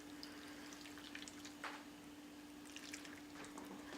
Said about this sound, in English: And then go ahead and pour it all on there.